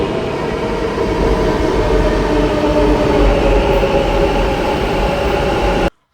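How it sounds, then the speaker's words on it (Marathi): Steady loud rumble and rolling roar of a Bengaluru metro train in motion near MG Road, heard from inside the carriage, continuous for about six seconds before cutting off abruptly. "तर आता आपण मेट्रो पकडलेला आहे"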